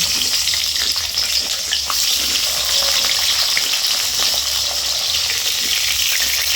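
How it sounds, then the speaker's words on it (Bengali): Raw green banana pieces frying in mustard oil give a loud, continuous sizzle with faint stirring clicks, close and unbroken, with no speech. "ওই একই তেলে কাঁচকলাগুলোকে ভেজে নেব।"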